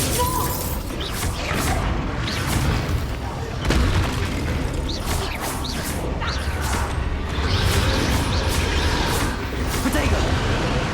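Bombarda and Confringo spell blasts in Hogwarts Legacy, a run of booming impacts and whooshes in a busy battle, with voices heard through the fight.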